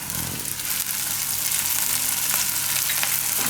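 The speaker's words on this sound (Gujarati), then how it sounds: "હવે આમાં નાખી દઉં આપણે આ લીલા મરચાં." Onions and green chilies fry in a pan with a loud, close, continuous sizzle and crackle that carries on without pause, with no talking.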